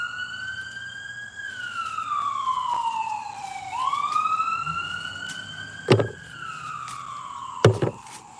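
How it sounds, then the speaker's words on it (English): Emergency vehicle sirens wail outside, rising and falling in long sweeping tones that dip and climb again, steady and fairly loud throughout, with a couple of brief sharp knocks near the end and no talking. "Sorry about the sirens."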